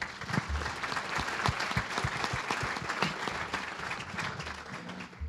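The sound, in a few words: applause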